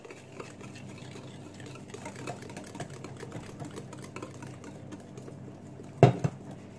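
A whisk beats sifted flour into chocolate cake batter, a steady soft rhythmic clicking and scraping in a bowl that runs throughout, with a louder clack near the end.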